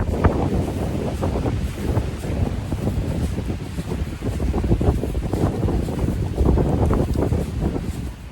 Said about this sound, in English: It's so cold and windy and rainy.